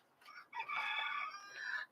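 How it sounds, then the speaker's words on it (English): Chickens on a farm: a rooster crows loudly and close by in one long, drawn-out call, preceded by a shorter clucking burst, with no talking. "Feed the chickens."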